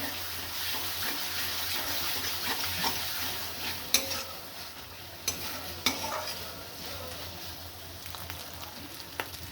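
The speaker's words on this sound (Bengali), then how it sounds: "আর 2 মিনিট আমি জাস্ট কষিয়ে নেবো।" Masala for a duck egg korma sizzles steadily in a pan as it is stirred, with a few crisp spatula scrapes and knocks rising over the continuous close frying hiss.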